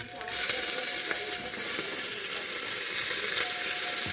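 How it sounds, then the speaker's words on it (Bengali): Vegetables with onion, garlic, chilli and chopped ginger frying in a pan, a loud continuous sizzle with occasional stirring scrapes, close up and steady. "আদা কুচি দিয়ে নাড়াচাড়া করতে হবে সবজিগুলো।"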